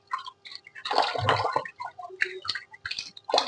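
Fatty goat meat is washed in water in a home kitchen, with intermittent close splashes, sloshes and drips coming in short bursts.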